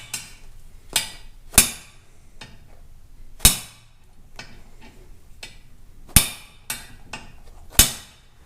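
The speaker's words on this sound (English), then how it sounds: "I'm going to thread this back on just a little bit so I can tap it a little with a hammer." Light hammer taps on a steer arm threaded into the knuckle of a Super Duty Dana 60 axle, sharp metallic strikes at an uneven pace with a few softer ticks in between.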